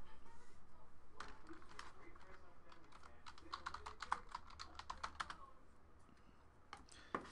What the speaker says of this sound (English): let's type in all of the hits